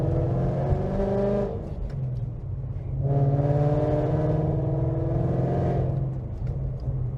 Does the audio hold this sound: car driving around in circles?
yes